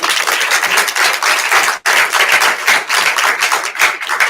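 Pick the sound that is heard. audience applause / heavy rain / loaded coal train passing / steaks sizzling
audience applause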